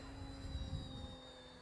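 Electric motor of a HobbyKing Avios Kobuz sports-scale aerobatic RC glider in flight, a faint, steady high-pitched whine over a soft low rumble of wind, brief and distant.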